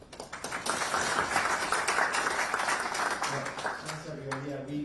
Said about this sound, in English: So round of applause, Mike.